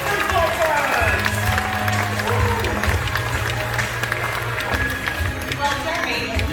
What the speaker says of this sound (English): How about a big round of applause for Mel, Doris, and Cocktail Coffee, Big Dog